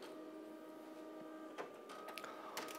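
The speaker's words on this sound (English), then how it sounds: "While the printer runs the print" A white toner printer prints onto a leather bag with a steady mechanical hum and sustained tonal whine, broken by a few short clicks and feed clunks near the end, fairly quiet.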